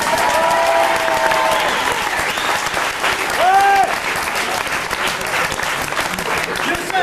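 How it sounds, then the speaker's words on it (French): An audience applauds a performer named Bambi with loud, continuous clapping, and voices and a few cheers come through over it. "On applaudit Bambi, s'il vous plaît."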